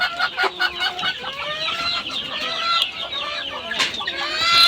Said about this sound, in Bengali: এখানে কয়েকটা পাহাড়ি মুরগি হাড়ি মোরগ আছে অল্প কয়েকটা